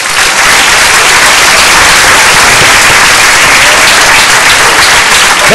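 Church congregation breaks into loud, dense applause, a continuous wall of clapping that stays strong and close for the whole stretch.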